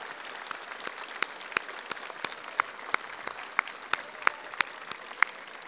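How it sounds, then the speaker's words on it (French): Applause from a crowd for volunteers of the Mons procession of the Car d'Or and relics of Sainte Waudru, a thin, steady clapping bed punctuated by many sharp, close individual claps at irregular intervals. "je voudrais simplement vous demander d'applaudir tous ces bénévoles"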